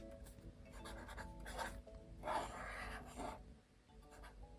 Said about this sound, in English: Since I'm gonna get up early, I'm gonna write here the time.